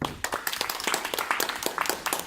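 An audience gives Richard, an investment speaker at a Toastmasters meeting, a brisk round of applause, with close, dense clapping that fills the whole short stretch.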